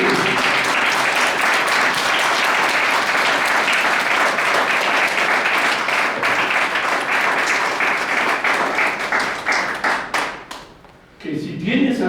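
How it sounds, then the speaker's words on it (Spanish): A church congregation claps loudly and steadily for about ten seconds, a dense wash of hands that thins and drops away briefly near the end before picking up again. "Dale palmas"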